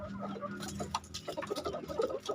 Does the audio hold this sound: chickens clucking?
yes